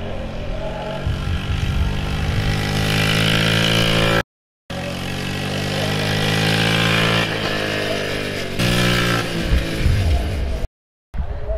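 A vintage 1980 Honda Z50 minibike engine runs steadily at close range, a buzzing small-engine drone that rises and falls with throttle, cutting out briefly twice.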